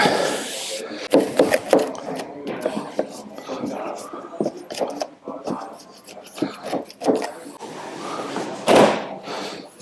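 Radiator muff material on a Land Rover being trimmed, with close scraping, cutting and rubbing strokes in an irregular rhythm, a few thumps, and a louder rustle near the end.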